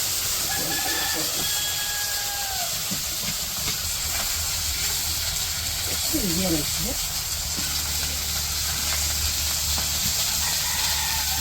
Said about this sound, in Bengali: মাছ ভাজার জন্য কড়াই তেলও দিয়ে দিছে।